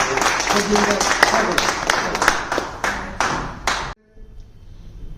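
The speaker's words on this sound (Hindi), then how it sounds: "जोरदार तालियां नाल आवाज़" A crowd at a New Year kavi sammelan poetry gathering in a hotel breaks into loud, dense applause with sharp individual claps standing out, lasting about four seconds before cutting off abruptly into near silence.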